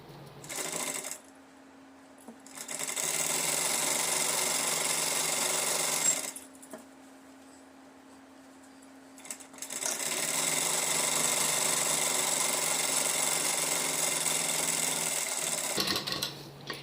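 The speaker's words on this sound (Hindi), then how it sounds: "सेम इसी तरह से मुझे फिटिंग की सिलाई लगानी है इसमें भी" A sewing machine stitches the lining of a suit in three sustained runs, each a steady rapid whir, separated by short quiet pauses, close and loud with no talking.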